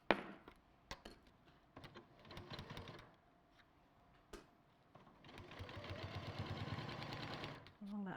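A sewing machine stitches fabric in short bursts, then in a longer steady whirring run, with a person talking and small handling knocks between stitches.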